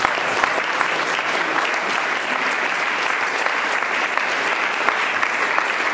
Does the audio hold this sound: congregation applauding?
yes